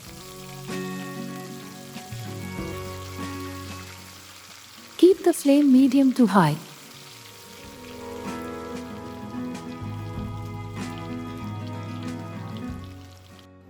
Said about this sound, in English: Once the oil is hot, carefully add the fish pieces for frying.